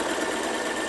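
A sewing machine stitches quilting fabric onto Soft and Stable foam stabilizer, giving a steady, even mechanical whir that runs without a break through a brief moment, at moderate level with no talking.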